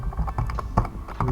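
Rapid clicks from a computer keyboard as an address is typed into a map search, with brief pauses between bursts of keystrokes, close and fairly loud, with no voice.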